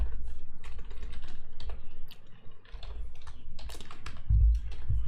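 Steady clicking of typing on a computer keyboard, close and continuous, with a low background hum and a brief thump near the end.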